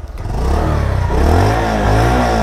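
A Bajaj Pulsar 150 single-disc motorcycle engine revs up and holds a loud, close exhaust note, with a steady pulsing idle rising into a strong throaty drone that stays high and sustained.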